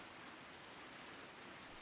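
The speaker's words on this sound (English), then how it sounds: "雨の音がやけに大きく聞こえるよ。" Steady rain falling in the horror video game Corpse Party: Book of Shadows, a soft, even wash of noise with no distinct drops, faint and continuous throughout with no voices.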